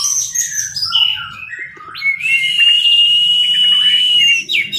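An orange-headed thrush sings loudly and close, with rapid chirps sliding between notes, then a long, sustained high whistling phrase with no voices over it.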